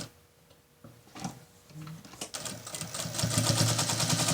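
A sewing machine stitches a patchwork triangular pouch, starting with slow scattered clicks and then building into a loud, rapid, steady mechanical whir close by.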